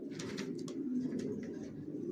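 Racer pigeons of a single Johnson long line coo steadily inside a loft, a dense low murmur of overlapping calls close by, with a few brief higher flutters and chirps on top.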